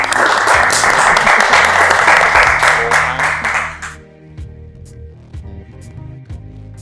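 A room of people bursts into dense clapping for about four seconds, loud and close, then the applause fades into scattered quieter sounds and low voices.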